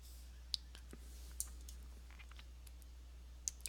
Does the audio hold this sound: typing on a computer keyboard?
yes